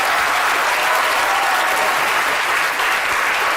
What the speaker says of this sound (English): I think a big round of applause there for Mark